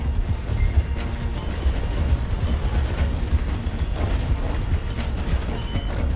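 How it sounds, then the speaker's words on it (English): Train in Red Dead Redemption 2 slowing through a station, a continuous low rumble with faint rhythmic clanking and mechanical clatter, steady and moderately quiet. "The train is slowing down to go through the station."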